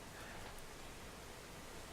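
Rain falling outside an open window, a faint, even hiss of steady rainfall that continues without a break.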